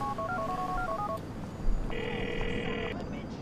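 A phone call is dialed in GTA 4, a quick series of keypad tones followed by a long ringing tone, with game noise and a voice underneath.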